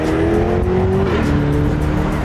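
A 2025 Chevrolet Corvette Stingray's mid-mounted engine roars loudly and continuously as the car accelerates up a freeway on-ramp, its rising tone dropping briefly at a gear change before climbing again.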